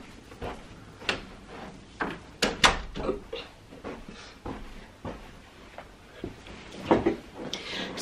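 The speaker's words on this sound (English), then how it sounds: "let me close this door because that beep is getting on my nerves" Muffled clunks and knocks sound at irregular intervals, a door being handled and shut nearby, with faint background noise and no clear speech.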